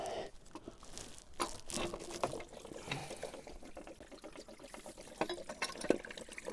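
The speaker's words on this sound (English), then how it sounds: "that coolant is just going straight into that hole of the dipstick tube that I've just removed" Coolant pours steadily into an open dipstick tube hole on an engine block, giving a continuous close splashing, trickling wash with small crackles. No one speaks over it.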